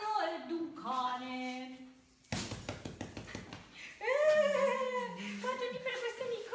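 A dog whimpers and whines in high, wavering tones close by, broken by a short clattering patch of taps and scuffs, with speech-like sounds mixed in.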